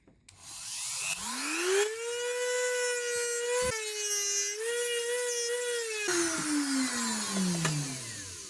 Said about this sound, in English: I'm doing that with this Dremel tool.